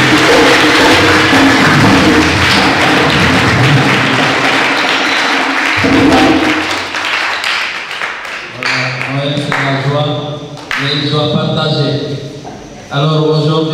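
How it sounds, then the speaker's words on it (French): A church congregation at Christmas Eve mass in the Saint Rémy parish of Goudomp bursts into loud, dense applause that rolls on for about six seconds, then fades as voices and singing take over. "je vais demander à ce qu'on s'applaudisse très fort"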